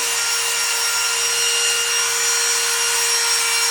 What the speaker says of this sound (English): So grab the Dremel tool, start on her first nail